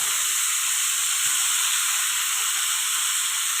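Fish frying in hot oil on a dosa pan gives a steady, loud hiss and sizzle with dense crackle, continuous throughout and free of talk.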